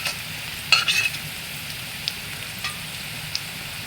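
Whole spices added to fried onions crackle in a pan for fish curry, a short burst of sizzling and clinks near the start, then a soft steady frying hiss with a few faint taps.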